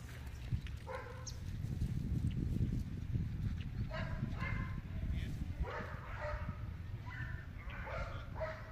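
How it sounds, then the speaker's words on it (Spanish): A Belgian Malinois barks repeatedly in short sharp bursts at moderate distance, over a constant low rumbling background. "Bonita, ladra, ladra. Eso es, ladra"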